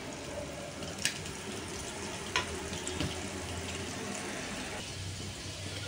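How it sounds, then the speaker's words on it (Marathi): Small mandeli fish coated in rice flour fry with a faint, steady hiss and bubbling that sounds almost like running water, broken by a couple of soft clinks. "आपल्या मांदेला पण आता फ्राय होत आहेत"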